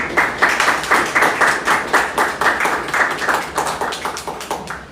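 An audience at a university event applauds steadily, many hands clapping together in a dense, even patter that holds for several seconds and slowly fades toward the end.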